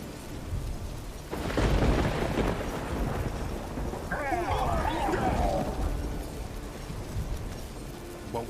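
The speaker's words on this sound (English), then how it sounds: "What was that? A magic explosion of some sort. So powerful that even the echo was dangerous." A huge magic explosion from The Witcher 3 booms low and rumbling with a crackling, storm-like roar, then rolls on as a long echoing rumble beneath a swirling high tone, with some talk over it.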